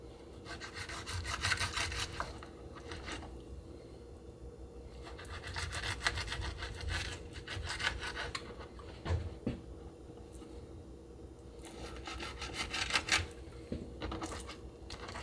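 A knife saws through a salmon fillet on a cutting board, cutting it into steaks, with bursts of rasping, scraping strokes that come and go over several seconds. The cutting is close and fairly quiet, and nobody speaks.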